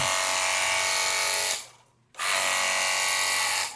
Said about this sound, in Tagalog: Ang kagandahan itong power sprayer, nabasa siya, so lumambot yung mga nasa singit-singit.